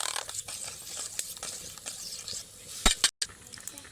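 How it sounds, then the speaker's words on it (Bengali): Water mixed with tomato paste boils in a pot for homemade soap, a faint continuous hiss and bubble with scattered small clicks and scrapes, no voices. "এই পেস্টটা দেওয়ার পর এক থেকে দেড় মিনিট মতো ফুটিয়ে নেবেন"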